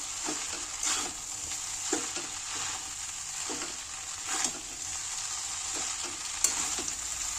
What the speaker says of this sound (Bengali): সবজিগুলো দিয়ে ভালো করে নাড়িয়ে নেবো।